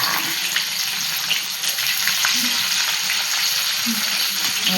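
Chicken pieces frying crisp in hot oil, a loud continuous crackling sizzle close by, with faint clinks as the pieces are turned over.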